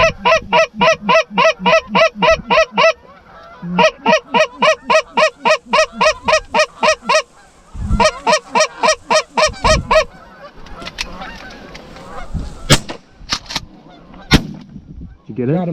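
Dense flock of geese honking in loud rhythmic bursts during an Iowa goose hunt, with sharp gunshots cracking out near the end as the honking thins.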